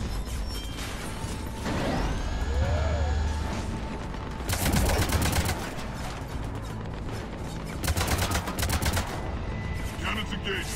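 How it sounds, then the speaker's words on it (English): Heavy cannons firing in the video game Mass Effect 3, with loud repeated bursts of rapid booming fire in several volleys, mixed with mechanical whirs, whooshes and crashes. "Cannons engaged."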